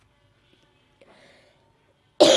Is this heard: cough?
yes